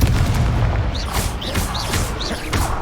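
Confringo blasting spell explosions in the Hogwarts Legacy game, a run of loud booming bursts with sharp whooshing streaks over a continuous rumbling background, no voice.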